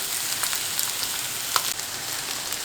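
Eggplant slices sizzle steadily in hot oil in a frying pan, a dense, even crackle with a few sharper pops, close and continuous.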